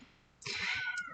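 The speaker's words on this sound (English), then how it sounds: "You guys can probably hear my cat in the background." A single short house cat meow, fairly faint and a little distant, rising out of quiet room tone.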